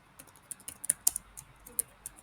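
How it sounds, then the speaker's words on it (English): Quiet, irregular key taps on a computer keyboard as a name is typed into a form, a few sharper clicks standing out against a hushed background, no voices. "you have to type in your name"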